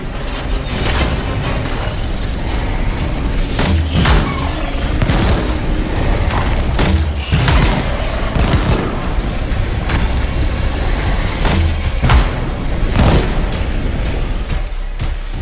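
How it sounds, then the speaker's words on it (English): Weapons fire in the video game Anthem, a flamethrower and grenade launcher in use, with a dense, loud run of booms, bursts and mechanical clanks repeating throughout over constant roaring game noise. "let's have Scylla in front with his flamethrower and have you support him with your grenade launcher"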